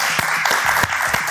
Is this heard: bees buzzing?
no